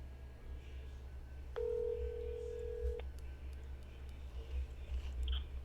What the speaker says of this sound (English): I'm gonna go ahead and phone in a friend